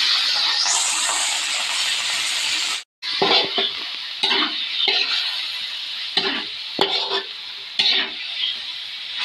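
Pork hits a pan of sautéed garlic and onion for Bicol Express with a loud hissing sizzle, followed by a brief cut and then bursts of sizzling and stirring clatter as the meat is moved around.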